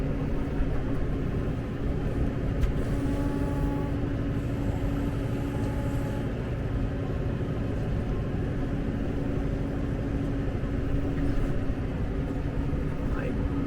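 A tractor pushing fallen trees out of a field drones steadily throughout, a constant low engine rumble with little change in pitch or loudness, close by and without pause.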